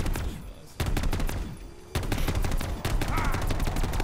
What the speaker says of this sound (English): you get a hit marker for shooting yourself